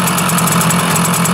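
A watercooled Zundapp KS 50 moped engine, rebuilt with a new piston and rings, idles steadily and close by, a smooth even putter with no talk over it.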